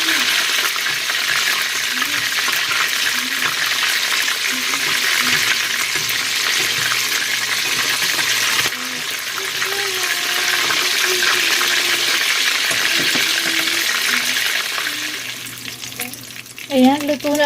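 Lumpia shanghai spring rolls fry in shallow oil in a pan, giving a loud, steady sizzle with crackles throughout that thins and softens toward the end.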